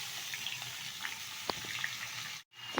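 Boneless chicken pieces, cut small, go into a pan of fried garlic with a soft sizzle and faint scattered pops and clicks, then a brief drop to silence before the frying noise returns.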